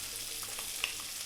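Onion dropped into a pan of hot olive oil, giving a soft, steady sizzle with faint crackles and one brief sharper pop, quiet and close with no talking.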